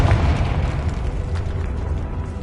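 A Confringo fire spell explodes in the video game Hogwarts Legacy, a loud, deep booming blast that rumbles and slowly fades over a couple of seconds, with no talking.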